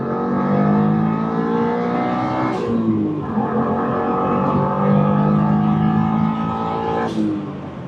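A Subaru Impreza GC8 engine revs hard and loud toward 8,000 rpm, pitch climbing through gears with two sharp shifts, a continuous roaring drone close by.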